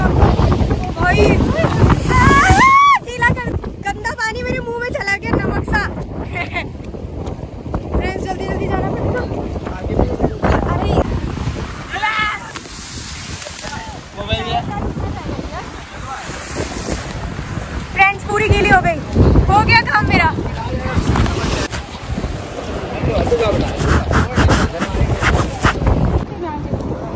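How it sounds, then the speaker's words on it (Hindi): Strong sea waves surge and crash near Haji Ali Dargah in Mumbai, a loud, continuous roar mixed with heavy wind buffeting the microphone, with someone talking over it. "पानी की लहरें इतनी तेज है ना"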